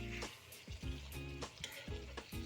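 Duck meat cooking in a pan hisses and sizzles loudly as a little water goes in, with a steady frying crackle broken by several scraping stir strokes, close up and with no talking.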